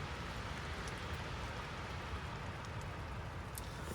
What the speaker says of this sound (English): You can hear it started raining again.